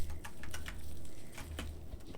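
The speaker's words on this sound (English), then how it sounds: "Oh, raining? That's upsetting." Rain falling in the game Don't Starve Together, a steady soft patter of drops with scattered sharper taps, continuous and moderately loud throughout, no voices.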